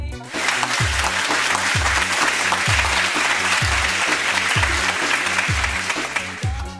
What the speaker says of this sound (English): Let's give Jesus Christ a big round of applause.